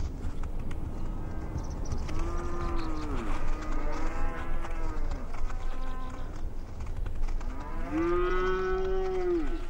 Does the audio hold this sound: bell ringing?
no